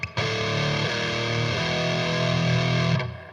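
Distorted electric guitar played lower on the neck, a sustained riff of held, buzzing notes that shift pitch every second or so, loud and alone with no talking.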